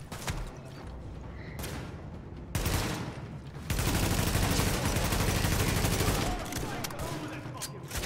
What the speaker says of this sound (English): G36C is tearing shit up